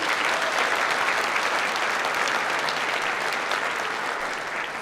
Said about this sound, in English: will you please join me in giving a round of applause to our Hampton City Schools Joint Color Guard and our Bethel High School Band